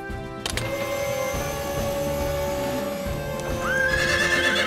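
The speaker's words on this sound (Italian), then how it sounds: "Il rumore sta spaventando il cavallo!" A cartoon horse whinnies loudly near the end, a rising, wavering neigh, frightened by a winch's steady mechanical hum, with low thumping hooves.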